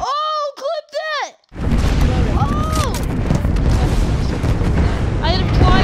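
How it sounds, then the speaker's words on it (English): An airstrike explodes in a first-person shooter video game with a sudden heavy blast that becomes a long, loud rumble of ongoing explosions and debris. Someone speaks briefly just before the blast hits. "Signaling an airstrike."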